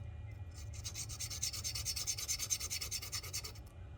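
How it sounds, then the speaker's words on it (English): Rapid rhythmic scuffing on a guitar fretboard, taking film off the wood in short fast back-and-forth rasping strokes for several seconds, close and steady, with a low rumble beneath. "We'll just scuff that real quick."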